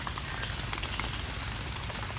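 Steady rain falls in a forest near Ban Bok during a mushroom hunt, a dense, even patter on leaves and ground that stays close and continuous throughout, with no voices.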